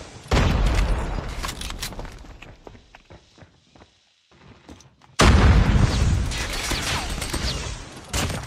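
Loud bursts of gunfire in Call of Duty: Mobile with rapid cracks and booms, dropping to near silence before another intense volley erupts.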